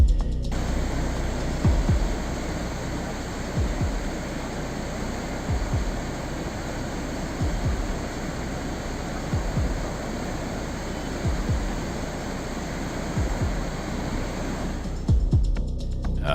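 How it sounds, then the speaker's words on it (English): A debris flow from high in the mountains rushes through a stream past a nearby house, making a continuous heavy roar with occasional low thuds, steady throughout and fairly loud. "Debris flow originating from high up in the mountains rapidly passed through a stream and shortly after flowed past a nearby house"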